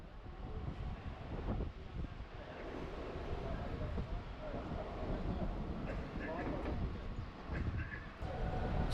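A moving train leaving the city, heard as a steady low rumble with rhythmic rattling and clatter from inside the carriage, continuous and fairly faint throughout.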